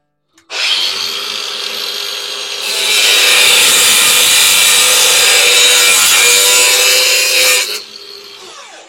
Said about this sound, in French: Je vais couper ça à la meuleuse.